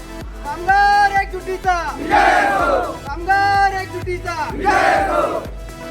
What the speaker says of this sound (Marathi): सरकारविरोधात जोरदार घोषणाबाजी यावेळी करताना दिसून आली